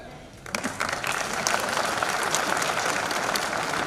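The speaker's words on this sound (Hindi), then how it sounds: "ये तालियां बजाने को क्या हो गया?" An audience at a jubilee ceremony in Gwalior breaks into clapping after a quiet start, building quickly into sustained, fairly loud applause that continues to the end.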